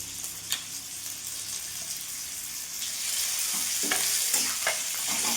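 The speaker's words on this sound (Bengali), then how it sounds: "পেঁয়াজটা ভাজা ভাজা হয়ে গেছে, এরই মধ্যে এই চিকেন কিমাগুলো দিয়ে দেবো।" Chicken mince goes into a pan of frying onions, giving a soft, steady sizzle that swells partway through, with scattered scraping and clattering stirs close by and no talking.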